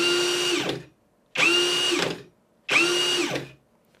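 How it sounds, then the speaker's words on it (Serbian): Three short bursts of a Parkside PSBSAP 20-Li C3 cordless drill in second gear, each high-pitched whine cut off by the brake, with a slight gearbox grind as it stops. Loud and close, no talking. "da će se čuti neki zvuk ovdje iz reduktora"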